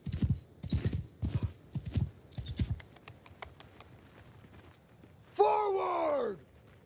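Horse archers' hooves in Mount & Blade Bannerlord: a run of loud, rhythmic galloping hoofbeats, then quieter scattered clatter and a horse's whinny near the end.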